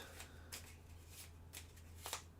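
Cards being shuffled for the Stars of Akarios board game, several quick riffling bursts spaced about half a second apart, close and quiet with no voices.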